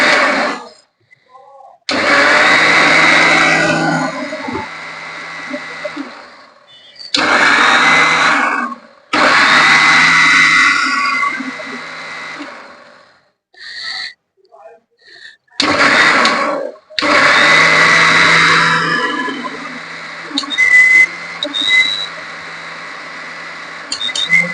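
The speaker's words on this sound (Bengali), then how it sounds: "এখন ব্লেন্ডারটা স্টার্ট দিলাম।" A kitchen blender whirs loudly in several separate bursts as yogurt and water are blended into lassi, each run a few seconds long with abrupt stops and short silences between, then quieter tapping noises at the end.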